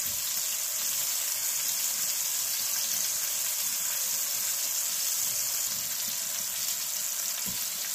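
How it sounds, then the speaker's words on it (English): Steaks sear on cast iron atop a 120-year-old wood cook stove, a loud, continuous, even sizzle filling the whole stretch with no talking. "I think we got a pretty good sear going on them"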